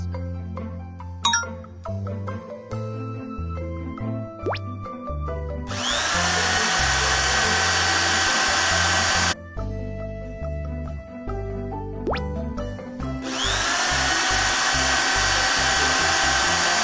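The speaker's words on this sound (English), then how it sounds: "Install drills." Power drill installing foundation piles in a construction puzzle game, two long loud whirring bursts cutting in over bouncy cartoon music and chimes, the drone holding steady for several seconds each time.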